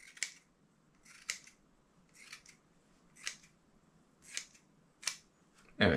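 Replica scissors cut through polar fleece fabric in a series of six crisp, close snips, evenly spaced about a second apart over a quiet background.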